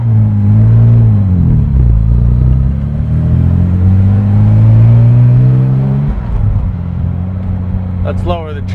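A 1960 Aston Martin DB4 Series 2 coupe engine warming up on choke, a loud, close, steady idle rumble whose pitch dips and rises, then settles lower, with a brief voice near the end.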